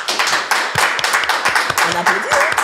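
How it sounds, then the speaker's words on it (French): An audience claps and applauds a guest at a French-language talk show taping, a steady close patter of hand claps lasting throughout with no voices over it. "On applaudit."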